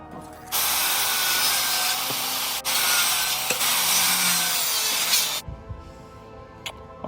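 A handsaw cuts through 1x2 wooden boards in a single sustained run of rasping strokes lasting about five seconds, close and fairly loud, followed by a few light knocks and quiet handling sounds.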